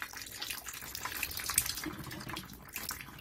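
Water draining from a thermal expansion tank into a bathtub during a home HVAC repair, a steady splashing, gushing flow that runs continuously and close, with no talk.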